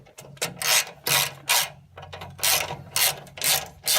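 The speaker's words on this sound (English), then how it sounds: "We're on to the last bolts of the motor mount." A ratchet tightens the motor mount bolts on a Nissan Hardbody pickup in a series of close, loud bursts of rapid clicking, about eight strokes with short pauses between them and no voices.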